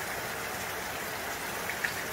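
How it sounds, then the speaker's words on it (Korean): Heavy rain falls at dawn in a mountain valley, a steady close hiss of drops spattering on surfaces, with a couple of faint brief clicks near the end and no voices. "비 오는데"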